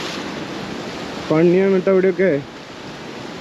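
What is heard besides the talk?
sea waves at Anjuna beach, Goa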